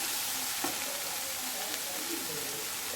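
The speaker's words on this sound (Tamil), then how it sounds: "சேர்த்துட்டு இது எல்லாத்தையும் சிம்மில் வச்சுட்டு நல்லா கலந்து விடலாம்." Egg stuffing with garam masala, salt and spices being stirred in a pan over low heat, with a soft, steady sizzle and faint scraping of the spoon, fairly quiet throughout.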